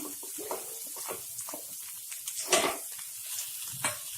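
Fish pieces dry-frying in a pan until crisp give a steady close sizzle, broken by a few soft clinks and one sharper scrape partway through.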